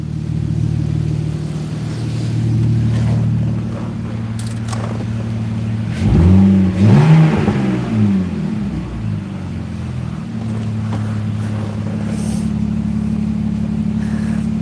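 A BMW E85 Z4 engine idles steadily, then revs up once in a sharp rising burst before settling back to a smooth, loud idle, heard close with no talk.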